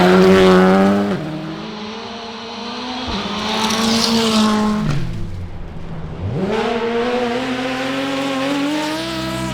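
A Toyota rally car racing a stage at the 100 Acre Wood Rally: a loud engine screams through several gear changes, backs off sharply, then builds again, with skidding tires under the engine.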